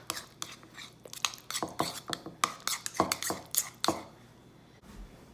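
Spoon clinking and scraping in a bowl while sour cream is stirred together with Cholula hot sauce, giving a close, irregular series of soft taps and smears that stops near the end.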